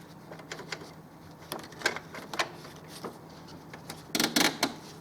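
Canon Pixma MG2550S printer taking in inserted paper, giving a run of sharp mechanical clicks and short whirring bursts that end in a louder rattling feed, close and clear with no talking.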